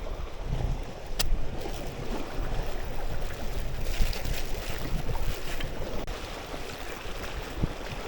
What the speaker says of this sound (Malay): Air semakin penuh dekat kawasan ni.